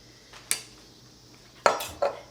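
Kitchen knife chopping celery stalks into even pieces for a Waldorf salad, three separate close sharp cuts striking a board, with quiet pauses between them.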